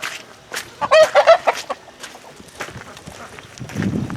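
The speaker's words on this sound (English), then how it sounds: "These are some new chickens, heritage breed chickens that we just recently got" Heritage breed chickens cluck and squawk close by in a short burst on a farm, then quieter rustling and a few soft clucks follow.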